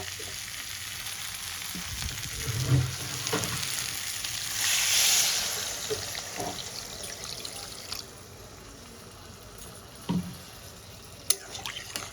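Water is poured into a pan of pumpkin stems, potatoes and spices being cooked down for a thin catla fish curry. A sizzle flares up loudly for a few seconds, then settles to a quieter bubbling hiss with small clinks.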